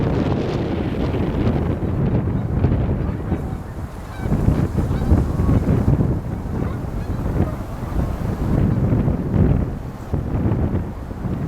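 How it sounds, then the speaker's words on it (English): Mallard ducks out in the middle of a pond give honking, quacking calls, fairly close, while strong wind buffets the microphone throughout. "There's some mallards out here mid-pond as well."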